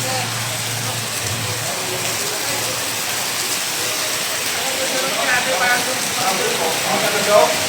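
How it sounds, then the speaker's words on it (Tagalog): Heavy rain pours steadily in a rural province, a loud, dense, continuous hiss of water with faint scattered sounds and a low hum underneath, with no pause across the whole stretch. "naglakas ang ulan"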